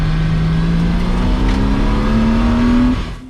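A Porsche Boxster's engine revs hard out on a race track, holding one loud, steady drone whose pitch climbs gradually before the noise cuts off sharply at the end.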